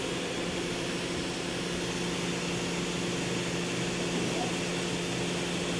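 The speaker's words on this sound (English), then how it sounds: "now we'll run the spindle. We're in the low range." Spindle of a Kia HC800 horizontal machining center running in low range, a steady mechanical hum with sustained tonal whine that holds even and constant throughout, with a voice faintly present.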